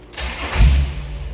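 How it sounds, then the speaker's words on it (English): A 1941 Chevrolet pickup street rod engine cranks briefly and catches, firing up with a loud low rumble before settling toward a steady idle. "Let's go ahead and start this up so you can hear this thing run."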